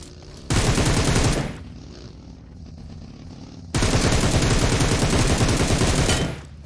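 Two long bursts of rapid automatic gunfire in PUBG Mobile, each lasting over a second or two, loud and dense, separated by a quieter pause with faint background game sound.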